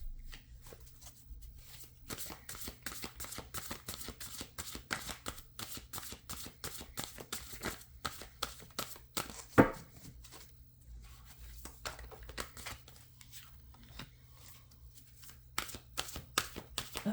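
A deck of tarot cards being shuffled by hand, a quick run of soft riffling flicks and taps, close and fairly quiet, with one sharper snap midway and no talk.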